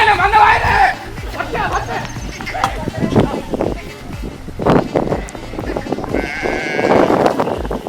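A flock of sheep bleats in repeated overlapping calls at close to mid distance, with people talking in between and under the animals.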